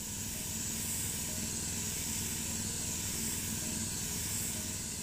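Steady airbrush-like hiss from a spray gun laying a light candy paint coat on a 1982 Mazda RX7, continuous and even throughout at moderate level with no talking.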